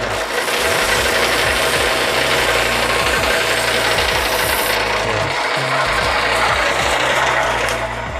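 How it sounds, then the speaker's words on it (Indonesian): A bamboo sanding machine grinds and rasps against bamboo in a loud, continuous mechanical whir with repeated rhythmic ratcheting pulses from the moving parts, steady throughout. "tinggal sorong dengan adanya mesin amplas ini"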